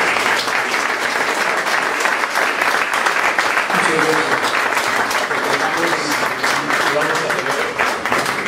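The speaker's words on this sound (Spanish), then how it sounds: "regalémosle por favor un fuerte aplauso" Loud, sustained applause from a large crowd, with dense clapping filling the whole stretch and a few voices calling out beneath it.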